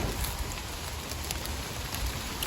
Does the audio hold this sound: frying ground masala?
no